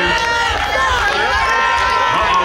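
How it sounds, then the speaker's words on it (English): A dense, steady roar from a live pro wrestling crowd at a UCW Universal Uprising show cheers on Cam Fox in his match against Steve Sterling. The sound swells and holds loud throughout, with many voices merging into an even wall. "Crowd starting to get behind Fox. You can hear him get behind him louder and louder."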